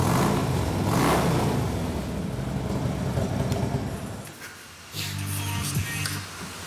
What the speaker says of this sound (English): Motor's nice and smooth, it's quiet. Shifts through the gears fine. Nice exhaust note.